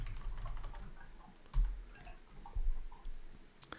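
Steady typing on a computer keyboard, a quiet stream of close, rapid key clicks with a few heavier taps, alone without any voices.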